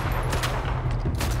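Gunfire rattles in the video game GTA V, a dense fusillade of rapid overlapping shots in quick bursts, loud and close, with no talk over it.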